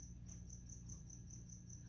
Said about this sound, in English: These crickets are getting on my nerves,